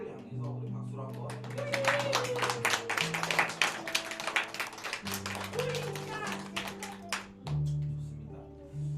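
A church congregation at a New Year's Eve service claps in a dense, sustained round of applause while organ or keyboard chords play underneath and a voice speaks over it.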